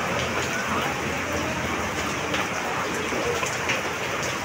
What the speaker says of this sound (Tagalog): lumakas na nga ang ulan